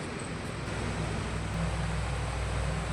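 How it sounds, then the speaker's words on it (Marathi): An air cooler fan runs indoors in a house, giving a steady, continuous whooshing hum with a low rumble, constant and fairly loud throughout with no voices. "घरामध्ये कूलर फॅन चालू असला की असा आवाज येतो बघा"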